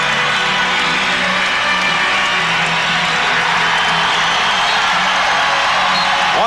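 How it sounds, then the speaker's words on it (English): A dense, roaring arena crowd at a 1992 NBA basketball game urges on the Detroit Pistons, trailing by one early in the fourth quarter; steady loud cheering and shouting fills the whole stretch, with a commentator talking over it. "Once again, the crowd urging the Pistons on."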